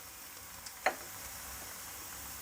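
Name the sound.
whole red chillies and spices sizzling in hot oil for tadka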